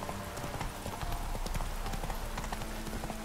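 A horse ridden in The Witcher 3 gives a steady, close clip-clop of hooves, an even galloping rhythm with a continuous rushing ambience behind it.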